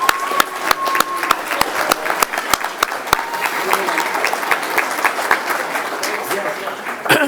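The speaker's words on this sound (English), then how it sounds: "let's give them another round of applause" Audience applause at a school board meeting honoring teachers, a steady wash of many hands clapping with sharp individual claps standing out, sustained at moderate loudness for several seconds.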